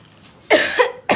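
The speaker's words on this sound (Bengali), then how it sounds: "আবার কাশি হয়।" A person coughs in two short, close bursts indoors, the first a little longer and the second clipped, with quiet in between.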